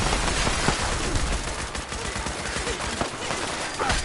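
Dense gunfire rattles in the game Fallout 76, a continuous loud barrage of rapid shots with no pause.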